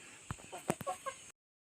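A chicken clucks close by in a few short, uneven bursts, then the sound cuts to silence before one last faint note.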